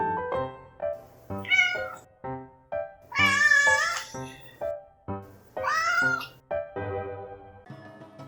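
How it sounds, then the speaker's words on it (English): A cat meows repeatedly, a run of short calls broken by a few longer, drawn-out yowls, fairly close and alone with no talking. "He was the OG like and comment kitty."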